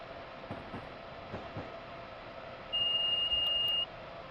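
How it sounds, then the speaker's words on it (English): Speed limit alarm in a train cab in a train simulator game on the Northeast Corridor toward New Haven, a steady beeping tone lasting about a second over quiet cab rumble. "We're just being alarmed for the 45 that we're well under."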